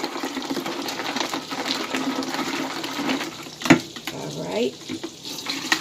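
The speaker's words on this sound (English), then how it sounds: "We're going to add some water to this." Tap water pours into a simple syrup mixture in a kitchen, a gushing stream rising and fading with a clatter partway through, as a voice speaks briefly.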